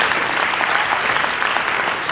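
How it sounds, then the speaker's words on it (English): Audience at a This Is My Brave mental-health storytelling event in Boston breaks into applause, a loud, dense, sustained clapping from many hands that holds steady across the whole moment. "please clap"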